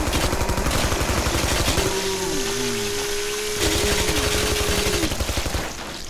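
Rapid, loud gunfire from dual-wielded guns in the video game Killing Floor, fired in steady, fast bursts for several seconds with a sustained electronic tone running beneath the shots.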